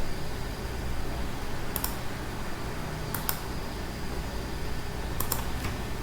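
Computer keyboard clicks in a few short bursts at about 1.8, 3.2 and 5.3 seconds while a spreadsheet formula is entered, heard close over a steady hum of room and fan noise with no one speaking.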